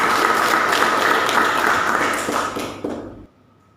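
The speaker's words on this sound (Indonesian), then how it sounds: "Oke, tepuk tangan untuk Mbak Nisa." Applause from a classroom audience during a microteaching lesson, a dense steady wash of many hands clapping that fades and cuts off near the end.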